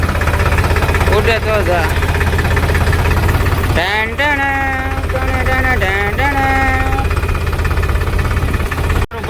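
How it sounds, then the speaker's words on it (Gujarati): A tractor engine idles loudly and steadily close by, with a continuous low rumble throughout while someone speaks over it. "હું ટ્રેક્ટર આંચી છે જોઈ શકો છો"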